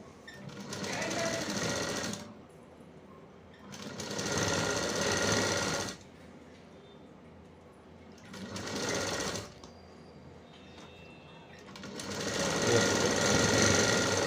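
A sewing machine stitches a sleeve onto a blouse in several loud, close bursts of rapid mechanical chatter, each a few seconds long, separated by quieter pauses.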